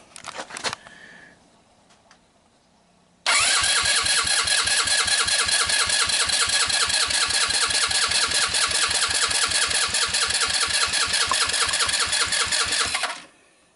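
A fire-damaged off-road buggy engine cranks and starts, then runs with a steady, loud, rapid chugging idle for about ten seconds before stopping, heard up close with no talk.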